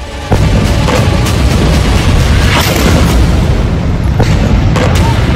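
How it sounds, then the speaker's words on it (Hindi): Bomb blast in the Israel–Hamas war in Gaza: a sudden loud boom followed by dense rumbling and crackling debris, with further booming bursts rolling on close by. "बम के धमाके में मारे जाएंगे।"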